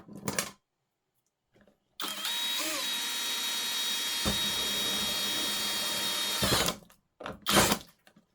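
A power drill whirs loudly for several seconds, its pitch rising slightly, between brief bursts of noise and short silences.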